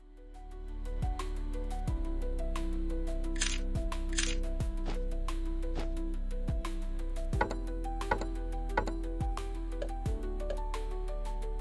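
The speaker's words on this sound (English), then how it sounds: "And that's the sound of the skull in Diablo 2." Game sound effect for the skull item in Diablo 2: a steady tonal bed with a series of sharp clicking, rattling hits spaced across it, plus two brief bright bursts near the start, heard alone at moderate level.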